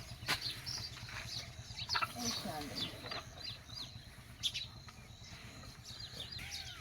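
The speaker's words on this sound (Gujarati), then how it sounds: "ચકલીઓ પણ જો સણમાં આવી ગયું છે" Sparrows chirp while pecking at scattered grain. Short, faint tweets come from a little distance over low background rumble, and a voice talks quietly underneath.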